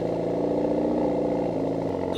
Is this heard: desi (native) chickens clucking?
no